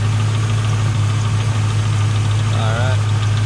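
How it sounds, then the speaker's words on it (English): A Chevrolet Camaro SS V8 idles with a steady low rumble, and the noisy pulley adds a faint whine and squeal over it, continuous and close. "You hear my pulley up there."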